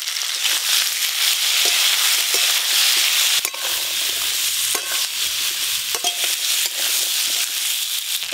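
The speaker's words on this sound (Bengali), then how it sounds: "এবার সবজিগুলো ভেজে নেব।" Vegetables fry in hot mustard oil in a wok with a dense, bright sizzle and intermittent scraping as they are stirred, loud and close throughout.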